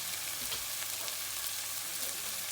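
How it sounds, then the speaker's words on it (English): Steady, close sizzling of drumsticks frying in a pan, a dense crackling hiss that continues without a break. "I'm frying these from light brown until it gets to dark brown"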